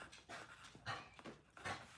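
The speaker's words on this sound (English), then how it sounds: "Was that a whisper bark?" A dog makes faint, breathy huffs and panting sounds, a quiet whisper-like bark repeated in short bursts, soft and close.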